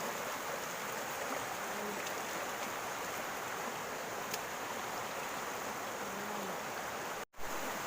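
Steady broadband rush of river water flowing, constant and fairly loud, with no voices and a brief dropout near the end.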